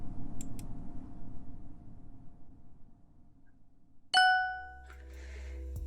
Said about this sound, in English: Wake up to the soft chime of your phone buzzing on the nightstand